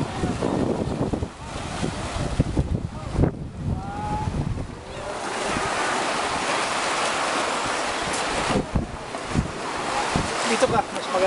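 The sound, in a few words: waves at beach, St. Petersburg, Florida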